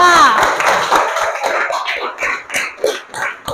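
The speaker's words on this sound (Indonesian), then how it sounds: "beri aplaus untuk kelompok 3" Classroom applause for a student group, with a burst of clapping from several people that thins into scattered, uneven claps over a few seconds, heard close and fairly loud.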